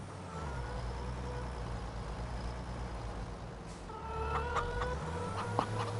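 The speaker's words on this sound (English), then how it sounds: "And watch out for the chickens." Chickens cluck softly in the Farming Simulator 25 game, faint against a steady engine drone, with brief clucks and calls clustering toward the end.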